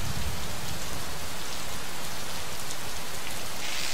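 Steady, dense rain hiss from the video game Gemini Rue, a continuous broadband wash of falling drops with no voices, filling the whole stretch at an even level.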